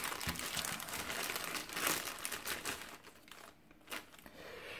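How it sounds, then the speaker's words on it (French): Packaging being unwrapped from a boxed figure, close and continuous plastic crinkling with crisp rustles and a couple of sharper crackles, no talking. "On va déballer ça."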